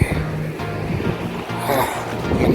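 Falling water on a Himalayan glacier trek near Bagini Glacier, a steady rushing wash with breezy wind noise on the microphone, fairly close and continuous without speech.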